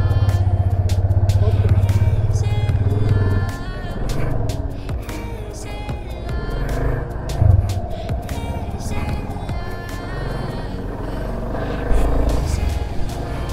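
A motorcycle not built for off-road use rides a dirt trail near Tamhini Ghat, its engine rumbling steadily under clattering bumps, with some voices heard over it.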